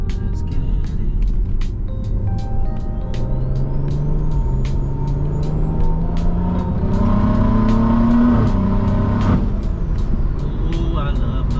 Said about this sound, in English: Driving my 340.